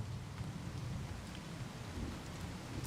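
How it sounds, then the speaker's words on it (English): Heavy, even rain pounds down in a video game storm, a constant dense hiss with a low rumbling undertone and no distinct thunder crack. "I love a good thunderstorm"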